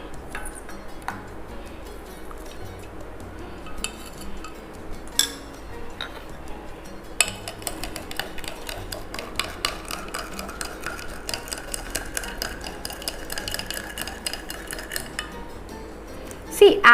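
Clay added to a glass of water and stirred with a spoon in a classroom science demonstration, a run of light clinks and ticking taps against the glass.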